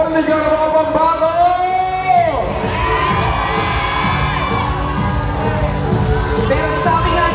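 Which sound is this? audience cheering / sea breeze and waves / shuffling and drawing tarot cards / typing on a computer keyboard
audience cheering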